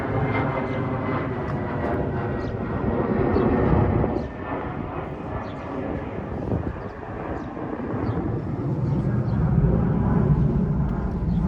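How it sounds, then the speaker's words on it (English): A steady, loud roar of a jet airplane passing overhead in Howard Beach, Queens, New York City, swelling and easing slightly as it goes, continuous throughout with no talking. "A lot of planes today."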